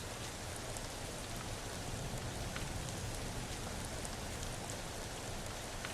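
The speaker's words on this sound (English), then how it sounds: "It's a rainy night. That rain will seriously put your ass to sleep." Steady rainfall on a rainy night in the stealth game Thief, a dense, even hiss of drops pattering on surfaces, continuous and unchanging throughout, moderately loud with no voices.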